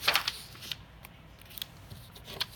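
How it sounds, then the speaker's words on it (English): Close, crisp snips of scissors cut out a paper shape for a tessellation, with a quick burst of cuts at the start followed by scattered single snips and soft paper rustling, with no talking. "we can cut out a shape right here"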